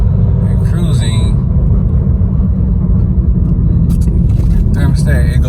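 A Dodge Challenger fitted with a 180-degree Mishimoto thermostat, driving and cruising. A heavy, continuous engine and road rumble is heard from inside the car, steady and loud, with a few brighter bursts of noise near the end.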